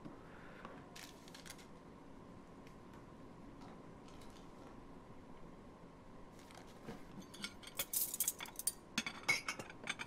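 Dishes and cutlery clink in the video game Life is Strange 2, faint scattered ticks over quiet ambience, then a livelier cluster of sharp metallic and ceramic clinks near the end.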